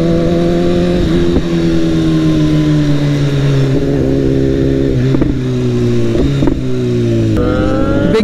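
A Ducati 959 motorcycle engine drones loudly and close, its revs rising and falling through several gear changes over a sustained ride.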